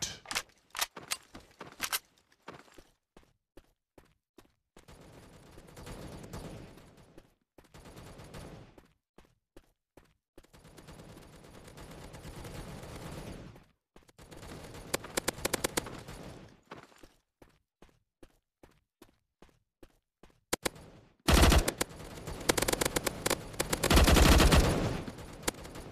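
Gunfire in the shooter game MaskGun, with rapid single shots and automatic bursts in clusters separated by short silences, then a loud sustained volley near the end.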